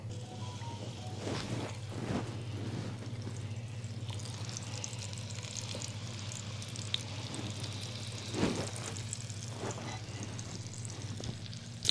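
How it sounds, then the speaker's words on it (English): Onions fry in extra virgin olive oil and bacon fat for smothered pork chops, giving a steady, quiet sizzle with occasional soft pops and stirring sounds. "This is as far as I go right here with grilling the onions, right?"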